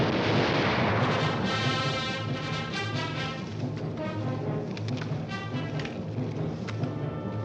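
Musket volley firing in an early-1950s swashbuckler adventure film set around Botany Bay, a dense rolling roar of shots that stays loud throughout with crackling bursts layered over it, no clear speech.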